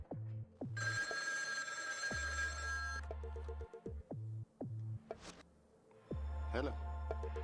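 A telephone rings in a romantic comedy film scene, a bright electronic trill repeating in short bursts over a background of other scene sounds and voices.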